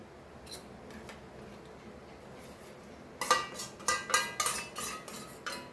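Chicken wings in a pan with unsalted butter as a honey glaze sauce goes in; after a quiet start, brisk sizzling and clinking utensil taps erupt, close and busy.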